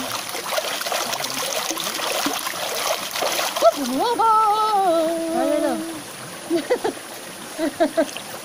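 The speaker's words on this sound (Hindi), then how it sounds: "पानी में पैर हिलाओ।" Feet splash and move through river water, trickling, with a few sharp splashes late on, under chatter and a bird-like whistling tone midway.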